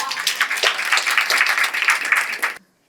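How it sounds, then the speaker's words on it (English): A conference audience gives a brief round of applause, dense and close clapping with a few louder claps standing out, then stopping abruptly. "Give a round of applause for that."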